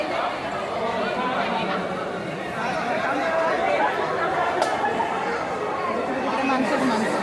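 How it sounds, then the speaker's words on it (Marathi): A large crowd murmurs steadily at the Gagangiri Maharaj temple in Khopoli, many overlapping voices forming an unbroken, moderately loud chatter throughout. "बघितली किती गर्दी आहे."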